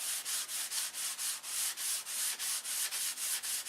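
Sandpaper rubbing a wooden model airframe in steady back-and-forth strokes, about four per second, a close, even hissing scrape with no voices.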